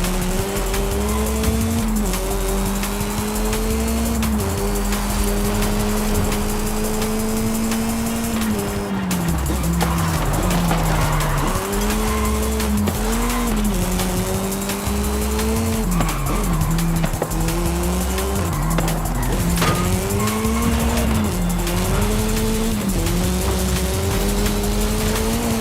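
Car drifting in Forza Horizon 5, engine wailing loud and close with its pitch rising and falling through gear changes while tires squeal and skid in long sustained stretches, no voices.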